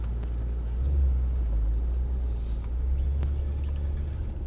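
A Mercedes-AMG E63 drives on a race track, its engine a steady low rumble heard from inside the cabin, loud and continuous with no talk.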